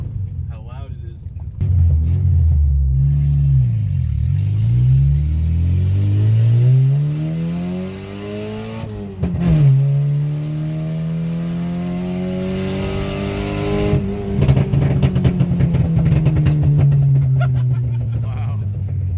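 A loud, street-registered car engine revs up and down repeatedly, its pitch swooping and falling in long sweeps over about twenty seconds, close and rough, with voices mixed in.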